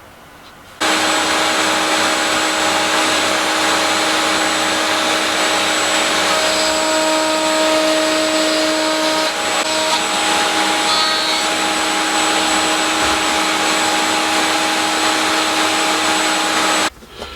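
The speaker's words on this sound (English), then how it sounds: "set the router table up with a 6mm cutter and find a way of getting these things done on identical spacings" A router table fitted with a 6mm cutter runs steadily while cutting grooves, a loud sustained high whine that starts abruptly, holds with a slight dip midway and cuts off near the end.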